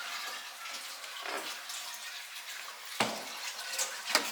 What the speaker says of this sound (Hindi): अभी पंप काम करना स्टार्ट कर दिया क्योंकि पानी बहुत ज़्यादा बढ़ गई है एंड ऊपर से पानी आना स्टार्ट हो गई है।